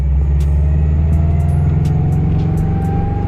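A manual transmission car engine hums low and steady from inside the cabin, with faint rhythmic ticking above the drone and no voices.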